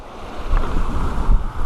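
Waves washing across a small island's rocky shore at a wild camping spot, a loud close rush of surf blended with heavy wind rumble on the microphone, swelling and ebbing continuously with no voices.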